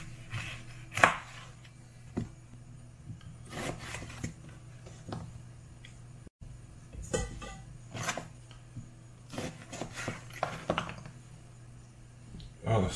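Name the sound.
cutting oranges into slices for mead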